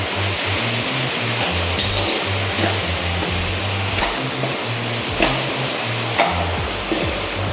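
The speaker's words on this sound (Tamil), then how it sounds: "இப்போ நல்லா வதக்கணும்" Chili powder and coriander powder sautéing in a pan for sambar rice, a steady loud sizzle with stirring scrapes and occasional clinks running throughout, no voices.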